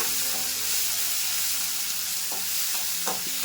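Onion and tomato fry in hot oil with mustard seeds, cumin and split lentils, giving a steady close sizzle and crackle with a few louder stirring scrapes near the end, and no talk.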